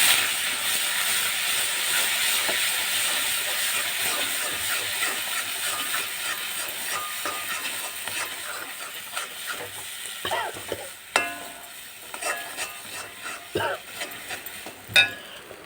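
Ground roasted masala paste sautéing for a tamarind curry, a steady close sizzle and hiss that eases off midway into scattered scraping stir strokes and small clatters against the pan.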